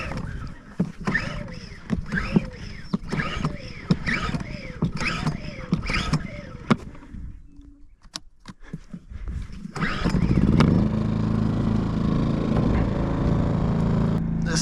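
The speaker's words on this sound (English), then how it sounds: "generator fired up, get this thing warming up a while." A choked small generator on a Wyoming ranch is pulled over with a series of rhythmic cord pulls, then catches and runs steadily and loudly close by.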